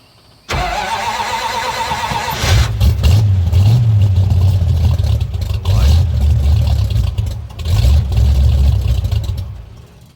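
A cold flathead V8 truck engine fitted with a Holley Sniper fuel injection kit cranks briefly, fires up and runs loud and rough nearby, with uneven revs rising and falling.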